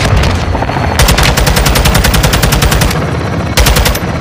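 Rapid automatic gunfire in Call of Duty Modern Warfare 2 during a Shadow Company ambush, loud sustained machine-gun bursts with short pauses between them, close and dominant with no talk.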